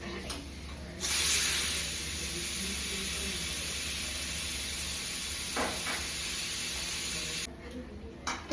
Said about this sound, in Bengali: তো প্রেশার কুকারটা খুলে দিয়েছি